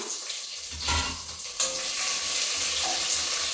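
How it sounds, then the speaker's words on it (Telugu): Finely chopped onion goes into hot tempering oil where green chillies have already fried, giving a lively close sizzle with a burst as it hits the pan, then a steady crackle. "ఆ ఒక ఆనియన్ సన్న ముక్కగా కట్ చేసుకొని వేసుకుంటున్నాను"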